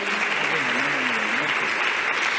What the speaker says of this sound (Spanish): Gracias por este aplauso para ahí.